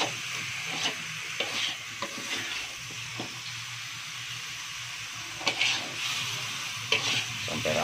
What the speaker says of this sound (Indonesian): Sampai rata ya, kita aduk.